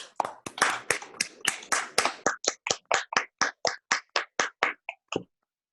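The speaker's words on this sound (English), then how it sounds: "I will unmute the participants to give a round of applause now for Christoph." Online participants clap after a mathematics talk. About twenty sharp, distinct claps come close and loud, fast at first, then settling into an evenly spaced rhythm before stopping.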